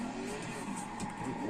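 A 1,500hp custom Tokyo Drift Mustang in the Forza racing game held in an e-brake drift, its engine droning steadily with tire noise over a low rumble, continuous and close.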